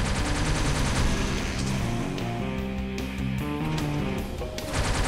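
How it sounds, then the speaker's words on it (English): Missiles fired by a tech bot in the shooter game Wrack, a dense, continuous barrage of blasts and impacts layered under loud, tonal game music, no voices. "He's shooting missiles at me, which are really, really damaging."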